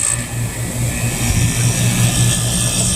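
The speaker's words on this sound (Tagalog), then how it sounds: "Talagang pinalo niya ng gusto yung compressor natin sumipa." An air conditioner compressor fitted with a hard start kit, which previously only hummed, kicks on and runs with a loud, steady low hum and throbbing drone that holds through the clip.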